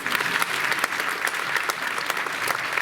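Audience applause after musicians and singers perform at a concert evening in a hall in Taglio di Po, dense steady clapping throughout at a moderate level.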